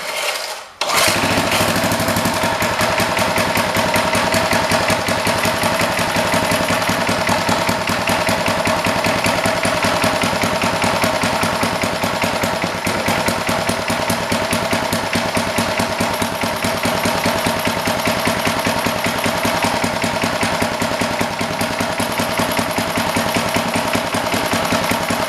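An old junk rototiller's small engine runs steadily at idle, a loud, close, continuous rapid chugging that holds even for the whole stretch after a brief bump at the start.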